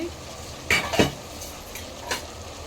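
A spoon stirs chili powder into hot oil in a pan for village-style chicken saaru, with a few scraping clinks against the metal over a faint, steady sizzle.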